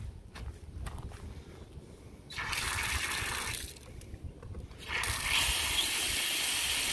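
Fresh water runs from a tap at a campground water station, turning on in two strong gushing bursts with quieter gaps between them.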